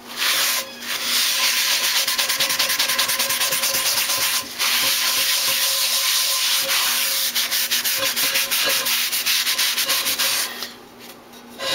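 Coarse kosher salt scrubbed hard across a hot cast iron pan, a loud, continuous gritty rasping with quick back-and-forth strokes that runs almost unbroken and eases off near the end.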